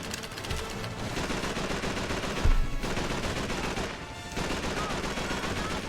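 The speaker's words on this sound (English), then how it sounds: "Keep firing, boys!" Heavy gunfire fills a Call of Duty 3 battle: rapid automatic bursts and rifle shots crackle continuously and loudly, with brief lulls and a deep thump partway through.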